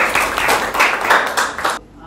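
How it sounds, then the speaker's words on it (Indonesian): A class applauds together in a classroom lesson, a dense burst of many hands clapping for about two seconds before stopping abruptly. "terima kasih tepuk tangan refleksinya"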